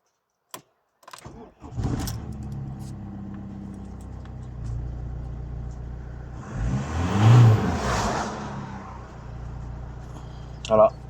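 An Opel Zafira engine cranks after a starter replacement, catches and revs up briefly before settling into a quieter idle; a few clicks and handling sounds come before it, with occasional voices.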